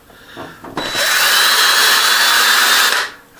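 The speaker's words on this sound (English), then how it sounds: "a cordless drill, an old mixer bit from a food mixer" A cordless drill fitted with an old food mixer bit whirs loudly and steadily while stirring a full tin of paint, spinning up after a short start and winding down about two and a half seconds later.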